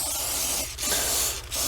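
Aerosol-style spray hissing steadily under a car hood onto an oily engine bay, a continuous close, loud spray with two brief pauses in a low mechanical hum.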